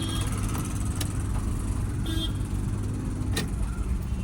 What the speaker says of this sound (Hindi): देखिए साउंड कर रहा है इंजन